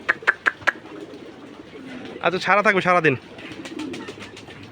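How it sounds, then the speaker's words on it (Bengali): Pigeons land and coo in a loft, with a few sharp wing-flap clicks at first and soft cooing underneath; someone talks briefly over them. "এই যে কবুতর নামতেছে"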